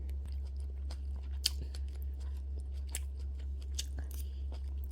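Someone eats mala tang with meat, bok choy and mushrooms, chewing close to the microphone with soft wet mastication and a few sharper crunchy bites over a steady low hum.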